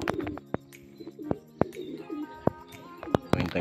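Racing pigeon back from a training race cooing on arrival at the loft, soft repeated low coos mixed with a few chirps and sharp wingflap-like clicks, fairly close.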